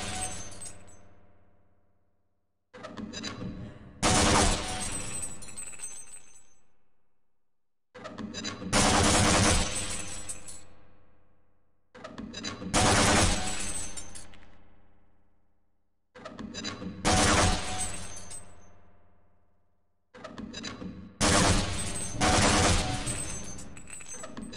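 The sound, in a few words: grenade launcher firing and targets breaking in the video game Half-Life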